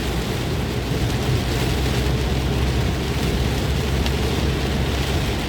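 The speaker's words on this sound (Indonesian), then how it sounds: "Dengan hujan yang segini lebat" Heavy rain drums steadily on a car driving along a toll road towards Cileunyi, a dense continuous wash with low road rumble underneath, loud and unbroken throughout.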